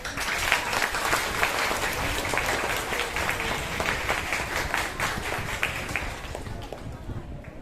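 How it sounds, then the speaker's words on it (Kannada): Sustained applause from an audience at an interclass school singing competition of folk and light songs, steady dense clapping for the student participants that carries on evenly for several seconds before easing slightly at the end. "ಮೊದಲಿಗೆ ಇವತ್ತಿನ ಭಾವಗೀತೆ ಮತ್ತು ಜನಪದ ಗೀತೆ ಸ್ಪರ್ಧೆಯಲ್ಲಿ ಭಾಗವಹಿಸಿದಂತ ಪ್ರತಿ ವಿದ್ಯಾರ್ಥಿನಿಗೂ ಕೂಡ ನಮ್ಮ ಕಡೆಯಿಂದ ದೊಡ್ಡ ಚಪ್ಪಾಳೆ"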